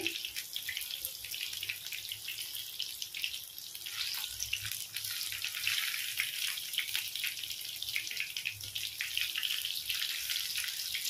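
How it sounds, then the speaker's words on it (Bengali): Fish fry in oil in a home kitchen pan, a steady close hiss and fine crackle that carries on without pause and without talk. "দু সাইড এভাবে ভেজে নিচ্ছি।"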